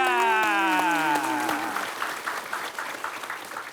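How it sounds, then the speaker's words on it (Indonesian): Applause from a small audience at an Islamic religious talk show, starting as sung music fades, then continuing as steady moderate clapping to the end. "Oke, tepuk tangan."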